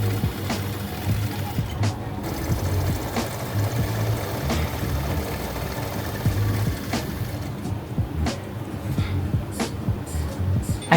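A sewing machine stitching a pocket piece onto a circle skirt from top to bottom, a continuous close mechanical whir with rapid rhythmic ticking that pauses briefly partway through.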